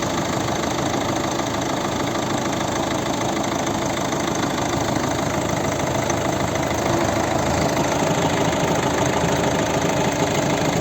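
A 2010 Volvo V50 with a 1.6 HDi diesel engine idles steadily and evenly throughout, with a dull, muffled knock and no revving or voices.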